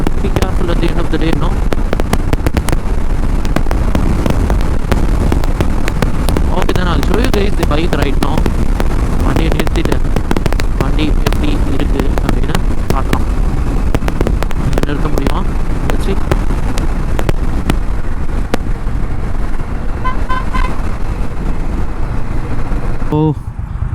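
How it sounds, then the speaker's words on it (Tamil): Heavy wind blast roars steadily against the microphone while riding an Indian Scout motorcycle, loud and constant throughout with buffeting gusts, and a rider's voice partly buried beneath it. "Lots of wind blast."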